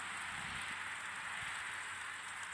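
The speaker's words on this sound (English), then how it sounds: "lo and behold, it is raining again" Rain falling steadily in Georgia around a shed, a soft even hiss of drops on surfaces with occasional louder patters, alone and without talk.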